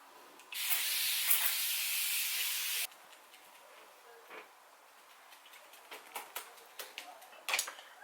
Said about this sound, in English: I'm going to use this spray